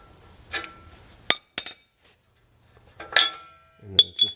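A socket wrench breaks loose an oxygen sensor on a Vibe's exhaust, giving a few sharp, isolated metallic clicks and clinks close by, separated by quiet gaps.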